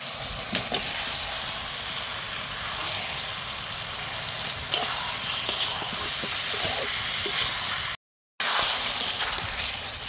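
Fried cauliflower and potato pieces go into a cooked-down spice paste with released oil in a pan, sizzling continuously while a spoon scrapes and stirs in scattered clicks, with a momentary dropout near the end.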